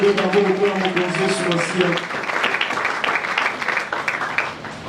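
Church congregation at an Easter service breaking into sustained applause and cheering, a steady dense patter of many hands clapping with voices rising over it, loud and close after a brief spoken call.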